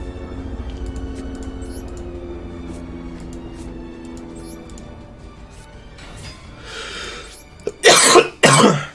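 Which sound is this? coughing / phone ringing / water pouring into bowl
coughing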